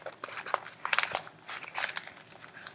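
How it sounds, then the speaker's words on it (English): A sheet of paper being crumpled into a ball by hand gives close, crackly bursts of crinkling in an irregular rhythm, with no talking. "I'm going to crumple it up"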